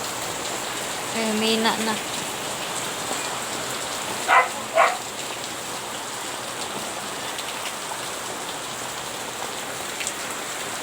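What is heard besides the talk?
rain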